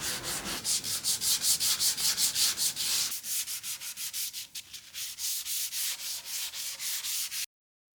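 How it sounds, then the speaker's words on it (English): Hand sanding of a black walnut tabletop, quick rhythmic back-and-forth rasping strokes, close and steady, with a brief change of pace midway and no talk. "And here we just sand and sand."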